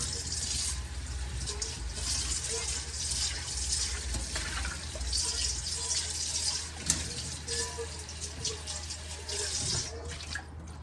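Tap water runs steadily into a sink as a fish for Guyanese-style lat pat banga curry gets a final rinse, a continuous hiss and splatter with small shifts as the fish is handled.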